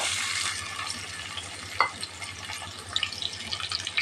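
Chopped onion going into hot oil with fennel seeds in a pan while making a broad bean gravy. A steady soft sizzle with a louder crackle as it hits, then light scraping and stirring, close and with no voices.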